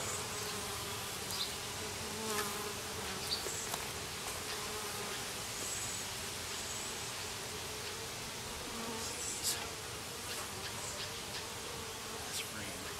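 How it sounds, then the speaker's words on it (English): Honey bees swarm around a hive frame of new foundationless comb, a dense continuous buzz filling the whole stretch at close range, with scattered louder passes of individual bees and no voices. "I'm knocking some bees off"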